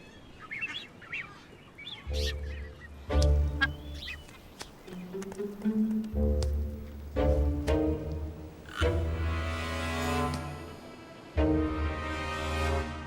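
Nazca boobies call in a busy Galapagos colony, with loud honking and whistling cries overlapping in bursts, some close and harsh, others farther off.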